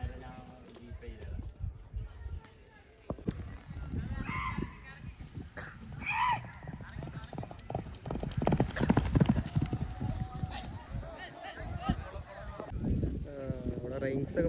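Horse hooves clip-clop in uneven bursts at a horse race event in Malappuram, close and fairly clear, with people talking throughout and a faint animal call or two in the background.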